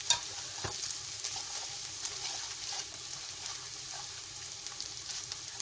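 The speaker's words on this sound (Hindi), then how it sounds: "अब मैं ये ड्राई मसाले डाल दूंगी।" Dry spices frying in a pan with garlic and ginger for a brinjal bhurta, a steady soft sizzle with light stirring and scraping, close and fairly quiet, with a small clack near the start.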